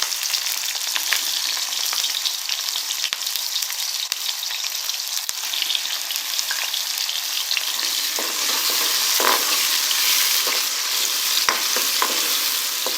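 Two medium onions fry in melted ghee in a pan, giving a steady loud sizzle with scattered crackles and occasional sharp scraping taps of a spoon, no voices.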